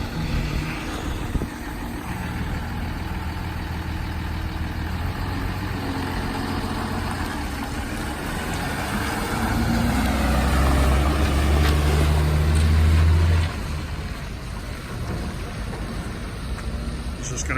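A 2010 Dodge Ram 5500 bucket truck pulls off and drives, its diesel engine rumbling steadily throughout, swelling louder for a few seconds midway before easing back.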